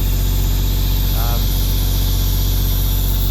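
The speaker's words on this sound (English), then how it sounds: "That's our compressor over there." An air compressor set up for sandblasting an International B250 runs with a loud, steady mechanical drone and hum, close by and constant, while a voice speaks briefly over it.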